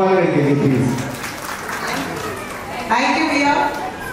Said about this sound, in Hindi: एक बार जोरदार तालियां भाभी के लिए